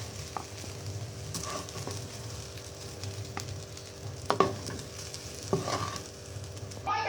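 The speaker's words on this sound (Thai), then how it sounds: "แล้วผัดให้เข้ากันนะคะ" Shrimp fried rice stir-fried in a pan sizzles steadily up close while a spatula scrapes and tosses it, with a few sharper clanks against the pan.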